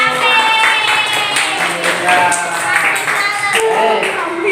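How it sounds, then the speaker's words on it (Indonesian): Classroom applause as a whole class claps for the first group after its presentation, a dense, steady patter of many hands filling the room, loud and close, with voices mixed in. "tepuk tangan semuanya untuk kelompok 1"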